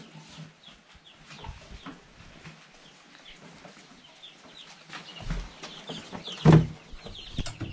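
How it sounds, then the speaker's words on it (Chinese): Young hatchling chicks are carried outdoors into bright sun, giving faint high cheeps and soft clucks scattered throughout, with handling rustles and a loud thump near the end. "把小鸡弄到下面去晒一下太阳啊"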